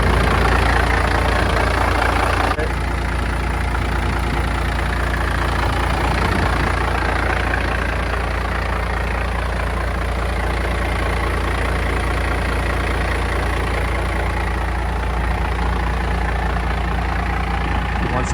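A crew cab truck engine fitted with 5x114 injectors idles steadily and loudly throughout, a constant low rumble with no change in pace.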